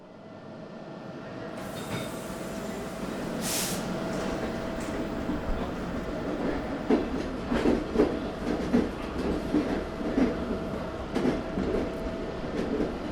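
A train passes, first as a growing rumble and then as a steady rhythmic clickety-clack with faint wheel squeal, loud and close, with no voices.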